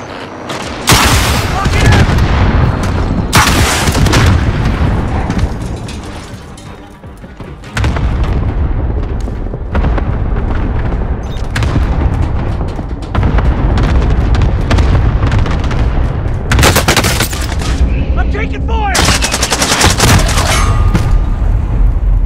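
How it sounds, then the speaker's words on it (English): Heavy gunfire and explosions in a Call of Duty Modern Warfare Warzone duos match, dense bursts of shots, booms and metallic clangs nearly nonstop and loud, with voices calling out over the battle. "Taking fire!"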